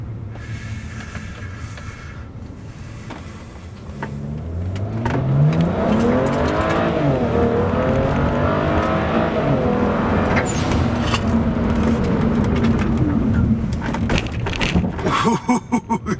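A stage 2 tuned BMW E90 335i xDrive with the N54 engine accelerates hard, its revs climbing in a rising sweep through the gears under a loud, sustained engine and exhaust roar, then easing off near the end.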